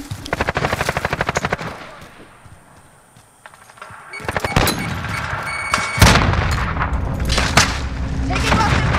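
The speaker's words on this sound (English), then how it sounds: "Taking weapon fire." Weapon fire in Call of Duty Modern Warfare on PS5: a rapid automatic burst up front, then a lull and renewed shots and explosive booms, loud and close, with game voice callouts in between.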